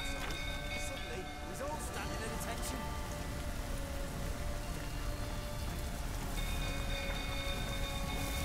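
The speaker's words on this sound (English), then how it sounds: "Looks like rain." In The Witcher 3: Wild Hunt, rain falls hard and steadily on surfaces as a continuous hiss, with tonal in-game ambience running beneath it and speech from game characters heard over the downpour.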